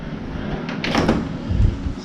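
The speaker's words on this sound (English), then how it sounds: "I go back in this side door over here." A hotel side door at a Hampton Inn and Suites in downtown San Diego opens and then thuds shut, a close mechanical clatter and swing followed by a low bump, heard alone without talk.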